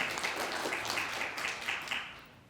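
An audience claps for a colleague during a talk about retirement accounts, a steady patter of many hands at moderate distance, lasting a couple of seconds.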